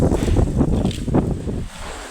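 Dusty windstorm gusting steadily with a broad rushing roar and rumbling buffets against the microphone, loud and continuous, easing slightly near the end; no voices.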